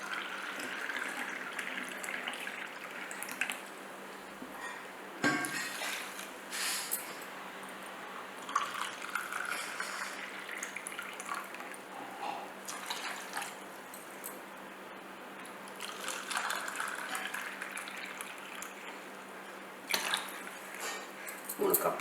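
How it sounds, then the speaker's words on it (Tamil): Water goes into a vessel a cup at a time, three cups in all, while a festive drink is being made. The pours come as faint, splashy bursts separated by short pauses, with a quiet room around them. "நான் வந்து 3 கப்பு தண்ணி விட போகிறேன்"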